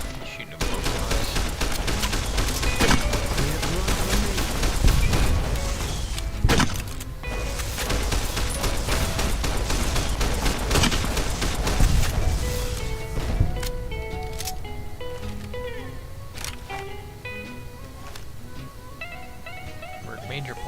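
Gunfire in Fallout: New Vegas as blowflies are shot, with dense, continuous bursts of shots and clatter throughout and players talking over the action.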